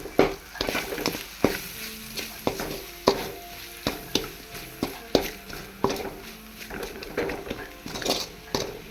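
Salt and chili powder sautéing in hot oil for a chicken gravy, a continuous close sizzle punctuated by regular clacking strokes of a spatula against the pan, roughly one every second, with no speech.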